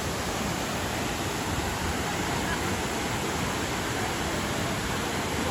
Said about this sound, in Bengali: সেই বহুল প্রতীক্ষিত মায়াবী ঝর্ণা